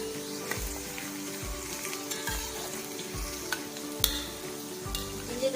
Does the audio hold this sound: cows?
no